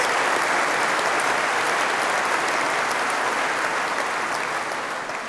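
A graduation ceremony audience at NTU claps and cheers in a hall, a dense, sustained wave of applause that holds steady for several seconds before easing slightly at the end.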